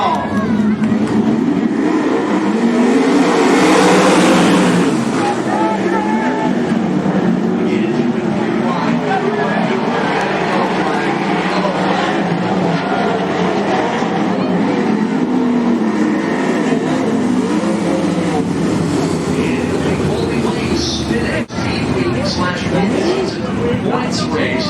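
Race cars run a heat race at Cottage Grove Speedway, their engines droning and wavering in pitch continuously over a crowd, while an announcer talks loudly over the action.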